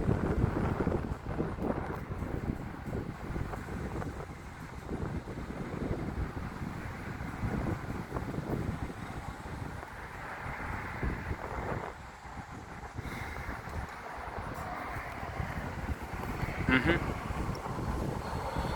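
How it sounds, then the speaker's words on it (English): Strong wind blowing outdoors, a continuous low rumbling buffet across the microphone with gusty swells, with a voice faintly present beneath it. "This wind is strong too."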